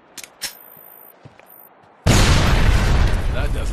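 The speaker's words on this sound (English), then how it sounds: "We'll blow the charges when we got some distance." After a few quiet thumps and a faint beep, C4 charges detonate in Sniper Ghost Warrior 2 with a sudden loud blast that rolls on as a sustained, roaring rumble.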